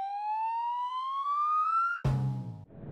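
A police siren wails in one long, slowly rising tone, then cuts off abruptly into a brief, lower electronic blare.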